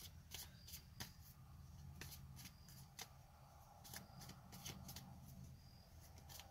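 Tarot cards being shuffled up close, a quick run of crisp riffling snaps and soft slides repeating in bursts over several seconds, with no voice.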